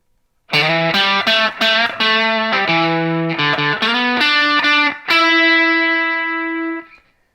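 A distorted electric guitar plays a phrase: a quick run of loud, overdriven notes with slides, then one long final note held with vibrato until it fades, with no other sound.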